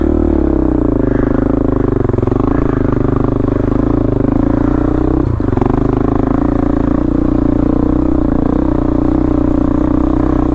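Motorcycle engine revving and throttling close-up while climbing a rocky, root-strewn mountain trail, its pitch rising and falling with the gas, joined by occasional clatter from the rough ground.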